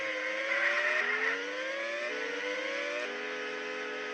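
Race car engines in the 2D racing game Unlimited Racing 2d whine steadily and loudly, with pitch climbing through repeated gear shifts roughly once a second.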